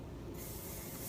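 Hairspray hisses from an aerosol can onto curled hair, a short quiet spray burst that starts abruptly and holds steady for under a second.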